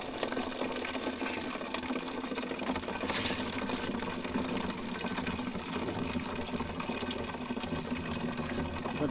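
Water flowing down from a mountain in the rural Lao forest makes a continuous, steady rushing splash that holds at an even level throughout, with no voices over it.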